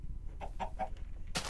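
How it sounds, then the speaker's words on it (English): Minecraft chicken clucking in the video game, three short clucks in quick succession at moderate level, followed by a sharp burst of game noise, with no talk. "Chicken."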